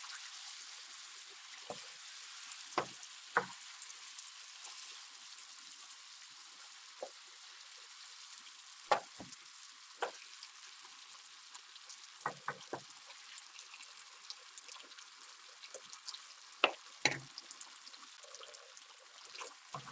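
Beef browning in a hot pan for stroganoff, a soft steady sizzle with scattered crackles and pops, faint and close, no talking.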